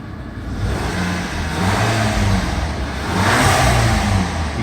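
Brand-new crate engine in a Volkswagen GTI revving loudly and close, with two rising surges of engine roar and a steady mechanical drone between them.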